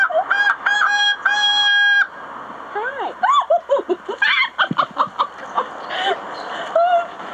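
A magpie mimics a rooster's crow, sounding several clear, drawn-out crowing calls, followed by a run of quick warbling and chattering notes, loud and close, with people talking at times.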